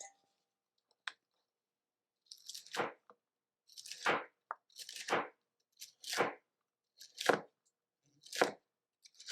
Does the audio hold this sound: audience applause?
no